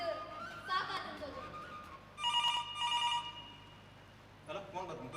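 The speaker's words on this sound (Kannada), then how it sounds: "ಫೋನ್ ಬಂತು" A telephone bell rings in two bursts partway through, standing out over background chatter and children's voices.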